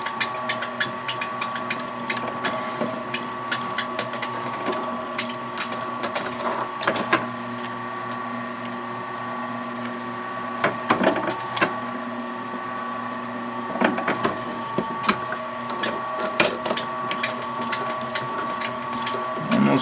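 A drill whirs steadily through an acrylic duck call insert, a continuous machine hum broken by repeated scraping and clicking bursts as the bit cuts and clears.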